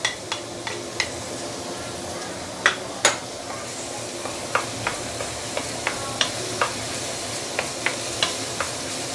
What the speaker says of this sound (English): let's start with sauteing the garlic and the chopped chili